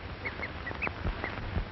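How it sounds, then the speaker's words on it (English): A cheetah gives a series of short, odd bird-like chirping calls, about five brief yelps spread through a faint, hissy old recording. "A cheetah slinks off, uttering his odd bird-like call."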